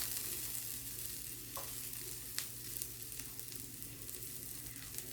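Rapini and sausage cook in a pan, seasoned with salt and pepper, giving a quiet, continuous sizzle with faint stirring clicks and no talk.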